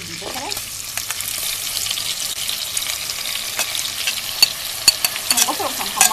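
Onion sizzling in melted butter in a cooking pot, a bright steady crackle of frying with stirring scrapes and small pops throughout, no talking.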